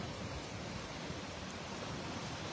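Heavy rain falling in Ajmer, a dense, steady hiss of downpour filling the whole stretch evenly with no pauses or voices.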